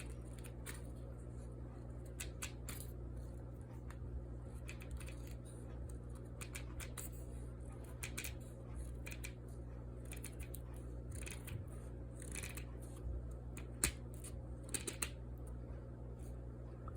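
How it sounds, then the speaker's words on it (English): An Ontario 498 knife shaves a dirty twig into a feather stick: faint, scattered scraping and cutting strokes in irregular bursts over a steady low hum, with a couple of sharper snaps near the end. "The Ontario 498 is going to see if it can feather stick it."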